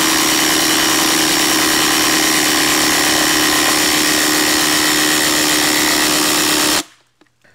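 A Hercules impact driver on speed 3 with a fully charged 5 amp hour battery drives a lag screw all the way down, giving a loud continuous rattling hammer for about seven seconds before it stops abruptly into near silence.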